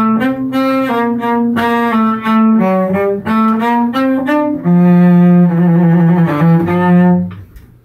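A solo cello plays measures 90 to 93 of Bréval's Sonata in C, with an upward arpeggio and stepwise runs. The bowed notes are loud and close, flowing in a steady line into a long sustained tone.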